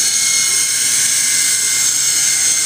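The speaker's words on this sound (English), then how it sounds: "it's a really good helicopter" Indoor RC helicopter, model S032, flying steadily nearby with a continuous high-pitched rotor and motor whine, loud and unbroken, no talk.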